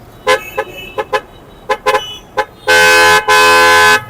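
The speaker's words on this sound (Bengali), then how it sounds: "এটা একটা বাসের মতো হর্ন এই হাইড্রোলিক হর্ন" Several short toots from a hydraulic air horn, then two long, loud blaring horn blasts close by, harsh and brassy like a bus horn.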